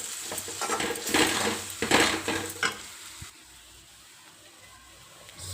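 A spoon stirs ivy gourd fry sprinkled with curry powder in a sizzling pan, scraping and clinking in quick strokes for about three seconds before the kitchen falls quiet, with only a low hum left.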